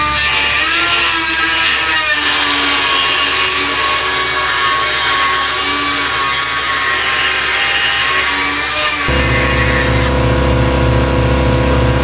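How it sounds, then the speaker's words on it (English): A die grinder scores a steel skid plate for an FJ40, giving a steady, loud, rasping grind that holds for about nine seconds before the tone drops and shifts to a lower, rougher whir. "score it with a die grinder"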